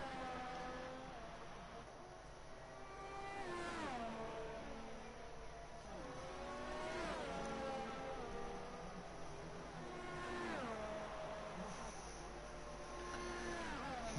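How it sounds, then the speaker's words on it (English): A Pagani race car in a racing video game works through a chicane at Japan, its engine note rising and falling in repeated revving sweeps, faint and slightly distant, with downshifts between each surge. "Pagani about to come through the chicane on the softs, coming up behind his teammate actually."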